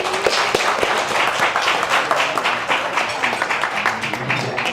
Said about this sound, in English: If you had good information, clap it up.